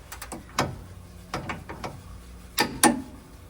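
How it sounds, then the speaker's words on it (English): Torque wrench set to 80 pounds tightening a bolt on a Jeep, giving a handful of sharp ratcheting clicks in small uneven bursts, close and clear against a quiet outdoor background with no talking. "Now we're gonna listen for that magic sound of the torque wrench."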